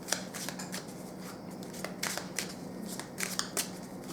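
Lenormand cards are shuffled by hand in a quiet room, a rapid series of soft riffling flicks and snaps, close and alone without talk.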